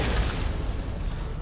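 Force Gun blasts in the Dead Space 2 video game, a dense, booming burst of gunfire-like concussive sound that fills the short moment loudly without pause.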